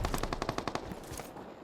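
Automatic gunfire in the mobile battle game PUBG Mobile: a rapid burst of about eight sharp shots in quick even rhythm, then a few scattered fainter reports fading out, with no talking.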